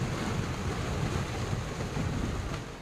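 Swollen Ravi river rushing in flood after heavy rain in Himachal, a steady, loud, broadband roar of churning water that runs unbroken throughout with no voices.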